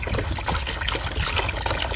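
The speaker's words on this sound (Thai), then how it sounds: "แล้วค่อยมาเทน้ำที่เป็นขาวๆขุ่นๆขวดที่ไม่แดงสักทีเทลงในกะละมังแบบนี้ค่ะ" Cloudy white photosynthetic microbe liquid pours from a bottle into a basin, a continuous close splashing and trickling stream at steady volume with no talk.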